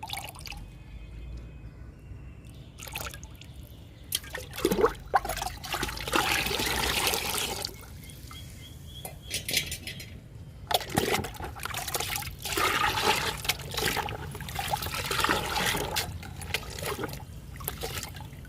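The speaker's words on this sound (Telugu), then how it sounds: "వాటర్లో పోస్తున్నా ఈ మజ్జిగని" Sour buttermilk, made from curd fermented four or five days, is poured into water as a feed for brinjal plants. It comes as intermittent splashy, trickling bursts of liquid, close and fairly loud, with short pauses between pours.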